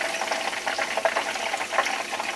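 Southern-style burgers in a deep fryer give a steady, fairly quiet crackling sizzle with small irregular pops and bubbling, continuous and without voices.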